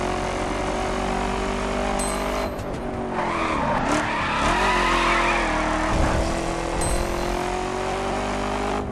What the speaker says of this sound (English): So I'm really enjoying the handling on the Challenger.